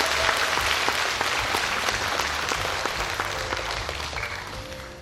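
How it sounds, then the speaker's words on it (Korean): Sustained audience applause fills the space at an Incheon rally urging relocation and new construction of city hall at Luwon City: dense, even clapping from a large crowd, loud and unbroken throughout. "김용식 상임위원장님께 다시 한번 큰 박수 부탁드리겠습니다"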